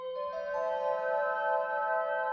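A singing bowl software instrument with chorus and long release, played like a crystal harp, rings out as a sustained, shimmering, layered tone that swells gently with overlapping notes and no talking.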